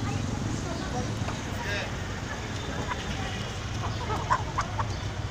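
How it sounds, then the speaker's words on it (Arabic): Native Egyptian roosters and hens at a poultry market in Mansoura cluck in short, faint bursts beneath constant crowd chatter and market bustle. "هذه الديوك المصرية الأصيلة"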